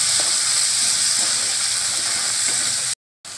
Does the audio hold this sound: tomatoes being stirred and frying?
yes